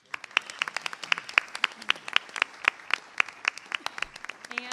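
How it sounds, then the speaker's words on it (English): A small audience at a school board meeting clapping for students, with sparse, distinct claps at an uneven rhythm and a few individual hands standing out close by. "If we could have a round of applause for our"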